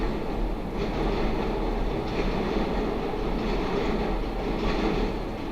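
A train rumbles steadily and loudly nearby, with a continuous low roar and faint rhythmic clatter of wheels on track throughout.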